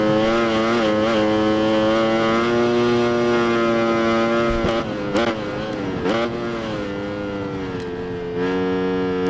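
Aprilia motorcycle engine screaming at high revs in a RIDE 5 race at Canadian Tire, a loud steady harmonic whine with brief gear-shift dips and rising pitch sweeps, continuous throughout.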